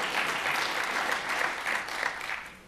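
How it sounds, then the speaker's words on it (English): An audience claps steadily at a political speech, a dense, sustained wash of applause throughout. "you can clap"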